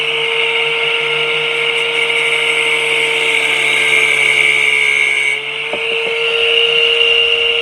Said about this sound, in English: So I'm taking my angle grinder and I'm going to